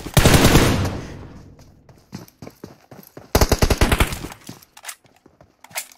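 AK rifle fire in a competitive shooter game, a loud sustained automatic burst followed by rapid, closely spaced shots with a few scattered single cracks.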